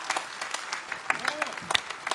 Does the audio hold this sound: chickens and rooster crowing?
no